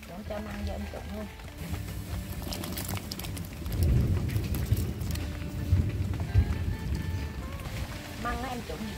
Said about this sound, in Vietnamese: nghe trời gầm thấy ghê